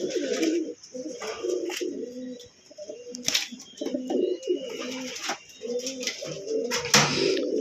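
Homing pigeons coo steadily in a loft, a rhythmic run of low throaty calls repeating close up, with brief rustles and scattered clicks between them.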